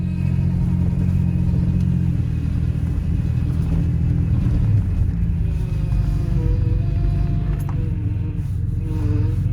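A 2000 Ford Ranger runs with its power steering pump whining, a steady tone riding over a continuous low engine rumble from start to end, with no talk.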